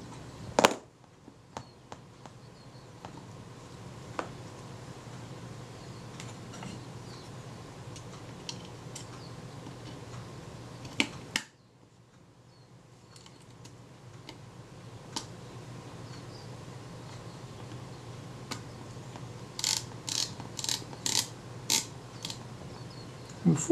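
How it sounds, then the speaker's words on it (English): Kodak Retina IIa camera with its film advance and shutter reinstalled after repair of a dead frame counter, being tested: sparse dry mechanical ticks and clicks, a sharper snap near the middle, then a quick cluster of clicks toward the end, close and fairly quiet. "put the film advance back on, put the shutter back on,"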